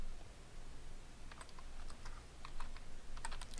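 Typing a password on a computer keyboard, with a short run of light, quick key clicks over a faint background hiss.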